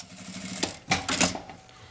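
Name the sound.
sewing machine stitching a fabric strip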